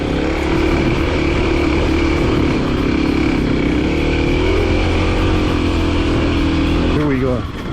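A dual sport motorcycle engine runs loud and steady in first gear on an off-road trail, a continuous close drone that holds through the ride and shifts in pitch near the end.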